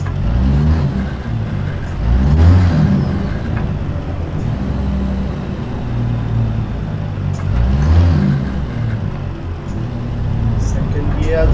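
A heavy truck engine in American Truck Simulator revs up and drops back during gear changes, rising and falling in a few swells while someone talks over it.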